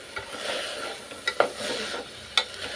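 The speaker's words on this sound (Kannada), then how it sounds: "ಈ ಥರ ಫ್ರೈ ಮಾಡ್ಕೊತಾ ಹೋಗಬೇಕು" Vegetables frying in a pan for avarekalu sambar: a quiet sizzle under soft stirring, with a few sharp clinks of a spoon against the pan, close and alone.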